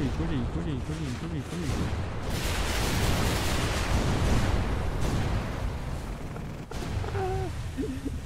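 Explosions and missile fire in the video game Project Landsword, a sustained loud roar of blasts and rumbling detonations with a whistling tone early on and a brief dip before the din resumes, no voice heard.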